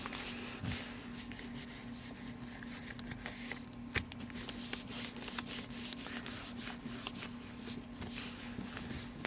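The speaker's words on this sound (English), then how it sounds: "we'll give it a good rub" A hand rubs paper down onto a stenciled Gelli plate for a mixed-media print, making a soft, continuous scratchy rubbing with faint taps, close but quiet throughout.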